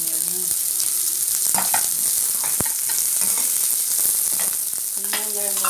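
Onions dropped into hot oil with spluttered chillies for coconut-free mint chutney, a constant bright sizzle with a few scrapes and clinks of a spoon in the pan, close and steady.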